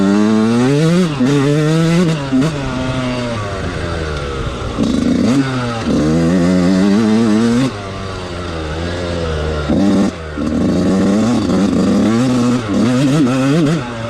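An older two-stroke Yamaha YZ 125 dirt bike, 1997 or 2002 model, revving hard and high, loud and close, its pitch swooping up and down through repeated bursts with no talk.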